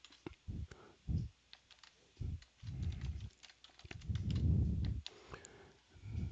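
Password typed on a computer keyboard, close irregular bursts of quick key clicks with short pauses between runs, no talking.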